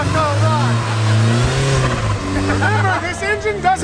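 A turbocharged Porsche 944 with a swapped five-cylinder engine revs hard and roars up and down in pitch, loud and close, with people shouting over it.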